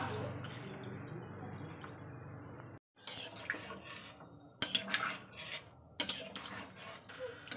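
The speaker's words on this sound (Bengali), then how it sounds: "এবার আমি এতে জল দিয়ে দেবো।" Water is poured into a pan of softened sweet pumpkin, trickling and splashing against the metal, with brief clinks of a utensil and short gaps of silence between pours.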